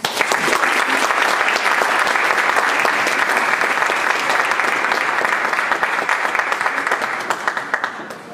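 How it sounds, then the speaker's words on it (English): A concert audience gives dense, sustained applause for the Grambling State University Symphony at a spring musical showcase. The clapping is loud and continuous and fades slightly toward the end. "please give them a round of applause"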